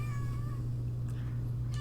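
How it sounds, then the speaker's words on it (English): A house cat meows indoors in a few short, faint calls over a steady low electrical hum. Nobody talks. "yeah, that's a cat."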